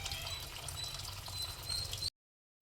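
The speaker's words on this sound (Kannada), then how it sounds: "ನೀರು ಕೂಡ ಬರ್ತಾಯಿದೆ" Water runs and pours into a house from the backyard, a soft continuous trickle with a gentle splashing texture that cuts off abruptly near the end before briefly resuming.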